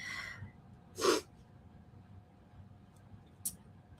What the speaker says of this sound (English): Nothing like some good dramatic sneezes in the morning.